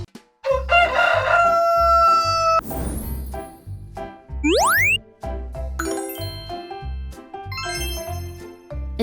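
A playful rooster crow set into bright, jingly music with a rising whistle-like slide, loud and close.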